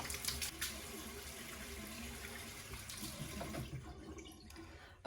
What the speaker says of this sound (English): wash it off my face with lukewarm water